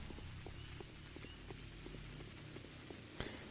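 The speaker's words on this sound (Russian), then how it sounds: "Еще дождь этот противный" Steady rain falls in the Pathologic video game, a dense, even patter with scattered sharper drops and one brief louder tap near the end.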